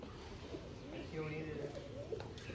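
Pigeons coo softly in low, throaty bursts beneath nearby people talking, with a faint rustling background.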